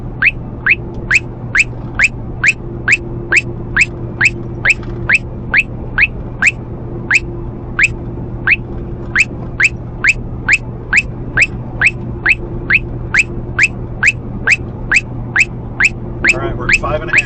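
A Uniden R8 radar detector in a moving car sounds a rapid series of sharp, high chirping alert beeps, repeating steadily for many seconds over a constant low road and engine hum.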